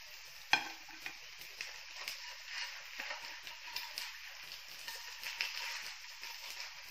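Food sizzling and frying in a pan in a home kitchen while potatoes are being cooked, a steady close crackle with a sharp pop near the start and small spatters throughout, no talking.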